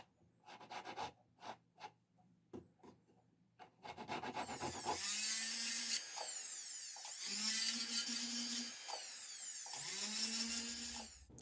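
Cast silver pendant being cut free of its sprue and filed or trimmed by hand and with a rotary tool, scattered scraping strokes, then long sustained whining grinds close up.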